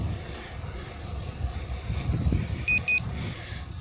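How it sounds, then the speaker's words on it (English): Two short high-pitched electronic beeps in quick succession from a Beeline Velo 2 cycling GPS, 20 meters before a turn, heard over rolling road and wind noise. "it will beep twice at 20 meters as well"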